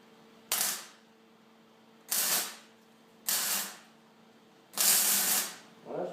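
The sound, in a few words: tack welding a metal piece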